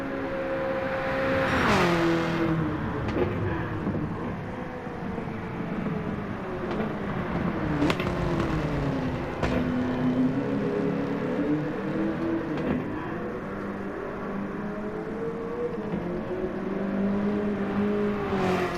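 A Chevrolet Camaro ZL1 engine in Gran Turismo 7 drones steadily around banked turns, its pitch rising and falling in long smooth sweeps, with a few brief bumps and clicks over the continuous hum.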